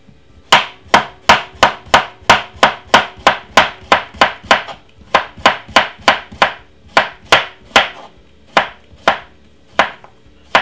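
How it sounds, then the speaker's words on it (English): A knife chops half a cucumber very finely on a board, giving a fast, steady run of about thirty crisp, loud, close knocks that pause briefly once midway. "just cut it up very small."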